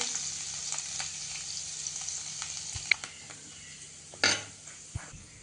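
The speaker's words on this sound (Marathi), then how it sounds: "फोडणीतच थोडी कोथिंबीरही घालतेय" Coriander leaves crackle and sizzle steadily at low volume in hot tempering oil with the gas off, with occasional sharp clinks and a brief louder burst of spitting.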